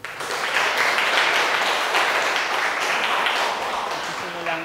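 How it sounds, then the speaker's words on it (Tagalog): Audience applause at a Filipino stage event fills the clip with steady, dense clapping from start to finish, with a brief voice surfacing near the end. "kung magkakaroon kayo ng malakas na palakpak"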